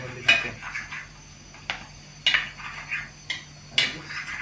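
Kaldereta being stirred in a metal pot, a ladle knocking and scraping against the sides in repeated close clanks every half second or so, with faint talk in the background.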